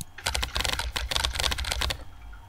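Quick bursts of typing on a computer keyboard, close and crisp, with rapid irregular key clicks in two short runs, no voices.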